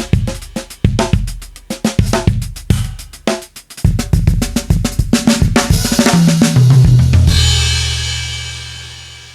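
A drum VST plays its dark, heavily compressed Fearless mixer preset in a busy, punchy drum pattern of rapid hits building into a roll, then ends on a long, sustained crash wash, loud and upfront.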